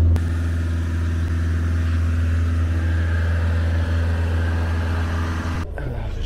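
A Ford Focus diesel engine runs steadily near 2500 rpm during a static DPF regeneration, a loud, constant hum and drone that holds throughout, then dips and shifts in tone near the end.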